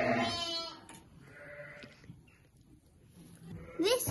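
Sheep bleat in a lambing shed, with a loud harmonic call at the start and another near the end, plus fainter bleats in between against a quiet indoor background.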